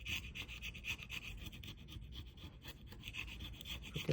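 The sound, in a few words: scraping the Galaxy S21 Plus frame during glass replacement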